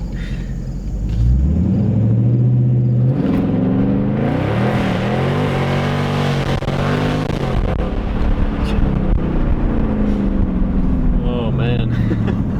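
A Dodge Charger ScatPack launches from a dig, its engine roaring loud and close with rising, falling revs and a heavy rumble held for about eleven seconds as the tires spin a little.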